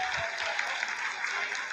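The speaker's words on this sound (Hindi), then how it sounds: "Lot of applause indicates that till now the performance has been nominal." Applause breaks out in mission control during the Chandrayaan-3 lunar landing, a brief, diffuse patter of clapping under a room full of voices and background chatter.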